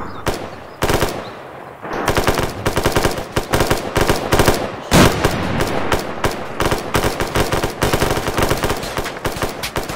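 Rapid bursts of automatic gunfire during a firefight in Wardak Province, Afghanistan, loud and close, with sustained machine-gun fire and sharp overlapping shots that run almost continuously for the whole stretch.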